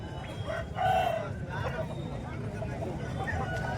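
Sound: hens and roosters at Bhadradri Kothagudem hen market

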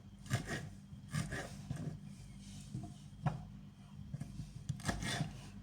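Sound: knife cutting tomatoes

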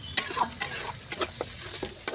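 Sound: frying spice masala in oil

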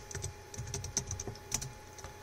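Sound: typing a command on a computer keyboard

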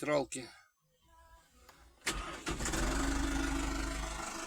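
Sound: tractor engine starting

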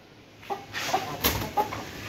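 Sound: hen clucking near its cage

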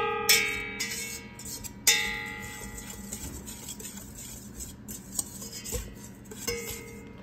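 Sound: mixing eggnog pie ingredients in a bowl

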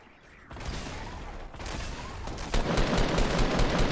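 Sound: gunfire in a video game

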